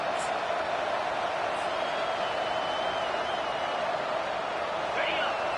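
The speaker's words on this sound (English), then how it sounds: "This crowd bringing the energy and noise early." A broad wash of stadium crowd noise at a football game roars steadily in the distance, a dense, continuous murmur with faint cheers swelling near the end.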